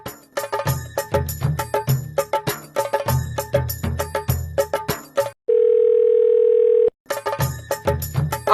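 A steady telephone dial tone sounds alone for about a second and a half, set between stretches of busy, rhythmic music with percussive hits.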